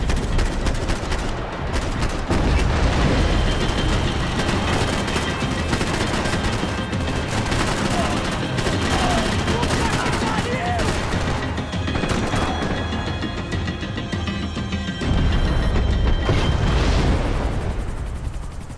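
Dense gunfire from the video game Max Payne 3, with rapid automatic bursts and booming blasts packed together, loud and nearly continuous throughout.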